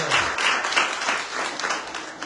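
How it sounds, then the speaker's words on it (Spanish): A church congregation claps for the Lord in a short burst of fairly loud applause, rising and falling in waves over a couple of seconds. "Con un fuerte aplauso al Señor."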